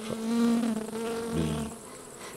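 A honeybee drone held in the hand on a hive's brood frame buzzes loudly and close, the droning pitch wavering and shifting as it struggles.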